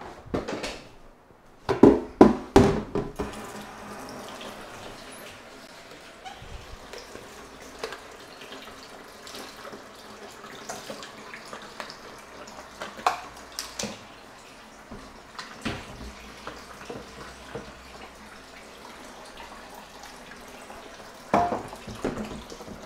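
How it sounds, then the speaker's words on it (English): Tap water runs from a sink into a tub, a steady close rush with a few louder splashes and clunks near the start and again toward the end. "Filling up a tub right now with some water right out of the sink"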